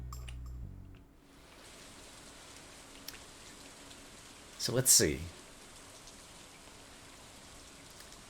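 Steady rain ambience from the video game Stardew Valley hisses evenly throughout, with a brief louder swell of sound near the middle and a short spoken phrase early on.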